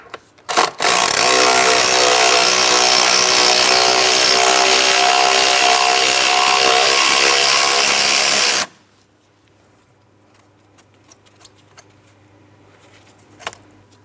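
A power tool, most likely an impact or ratchet driver, removes a 10mm bolt from a bracket on the engine of a 2003-2007 Cadillac CTS 3.6L V6, with a loud, steady whir for about eight seconds that then cuts off into near silence with a few faint clicks.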